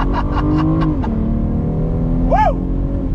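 A BMW M440i convertible with a ZF 8-speed automatic accelerates hard under paddle shifts, its engine droning loud and close with a quick rising rev sweep near the end.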